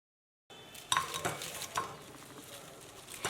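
Crispy deep-fried spinach pakoras being tossed and handled after frying, giving light crackly rustles and a few sharper clinks of utensils against a pan, close and fairly quiet with no talking.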